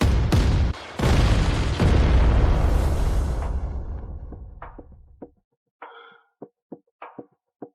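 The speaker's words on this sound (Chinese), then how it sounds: "咱们这么多炮一起开火" A massed barrage of cannons fires together in an anime battle: a long run of heavy booming blasts that rolls on for several seconds and then fades. Several sharp, separate pops and bursts follow, each short and spaced apart.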